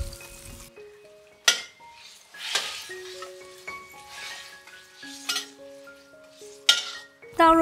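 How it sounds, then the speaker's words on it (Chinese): Vegetables, choy sum, vegetarian fish cakes and vegetarian shrimp stir-fried in a wok, with sharp clanks of the spatula against the pan and clinks over a soft sizzle, the strikes coming irregularly and loud up close. "素虾，炒一炒"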